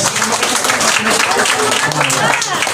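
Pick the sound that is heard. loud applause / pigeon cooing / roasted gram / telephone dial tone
loud applause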